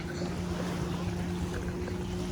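Sea-Doo personal watercraft runs on the water as a steady engine drone with a hum, mixed with wind buffeting and water wash at moderate distance.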